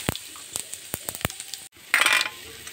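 Dried red chillies and five-spice seeds hit hot oil left from frying pointed gourd, giving sharp scattered pops and clinks, then a short pause before a louder burst of sizzling.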